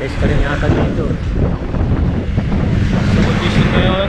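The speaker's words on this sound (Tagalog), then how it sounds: "so 40 degrees, tapos yung hangin napakalakas" Strong headwind buffeting the microphone while cycling the Taal Loop in 40-degree heat, a loud continuous roaring rumble under someone talking.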